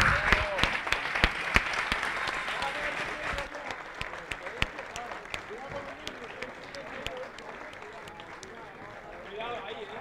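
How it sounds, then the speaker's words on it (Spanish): Audience applause after a combat robot competition at the OSHWDem 2019 maker event, with dense clapping that is strongest at the start and then tapers to a steady patter. Crowd voices and a presenter's speech carry underneath. "Un fuertísimo aplauso por este gran espectáculo que nos han dado los constructores."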